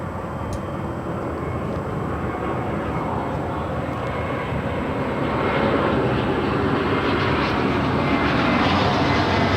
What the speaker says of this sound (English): that is JetBlue 2123 coming from JFK. It is an A321 and it's 6 years old.